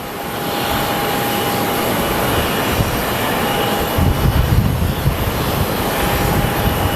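Airliner passing at Sky Harbor Airport in Phoenix, a loud, steady jet engine roar that swells slightly midway, heard outdoors with no talking.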